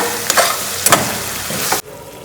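Pav bhaji vegetables with mashed boiled potato and beetroot paste frying in a pan, a loud close sizzle with three scraping stirs of a spoon before the sound drops away abruptly, no talking.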